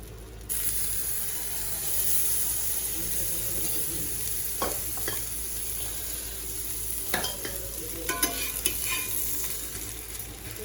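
Onion and tomato sandwiches frying in a pan give a steady, close sizzle with a few sharper crackles and spatters. No one speaks.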